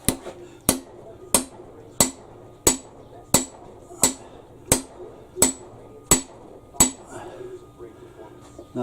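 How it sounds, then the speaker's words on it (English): A hammer strikes a John Deere tractor tire rim to break the bead, eleven sharp metallic blows at a steady rhythm about every 0.7 seconds, close and loud, with quiet gaps between. "Gee, I hammer like a girl."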